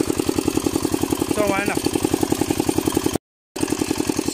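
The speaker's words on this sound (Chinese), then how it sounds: "这个动力发动机更小啊" Small engine of a farm tiller in a rice field, a rapid steady chugging putter close by, with someone talking briefly over it and a short dropout near the end.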